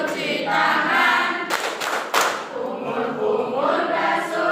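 A class clapping along to the ablution clapping chant during a micro-teaching session, sharp hand claps in short bursts mixed with voices chanting and singing together.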